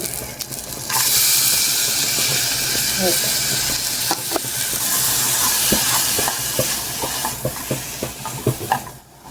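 Onion hitting hot oil in a pot for a Brazilian bean seasoning, a loud sudden sizzle that settles into steady frying, with spoon clicks and scrapes while stirring.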